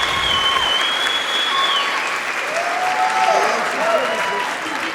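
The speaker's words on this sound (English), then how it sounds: "Big applause." Sustained applause from a large commencement crowd honoring Unity Environmental University graduates, steady and dense for the whole stretch, with faint voices and a few whistle-like tones rising above the clapping.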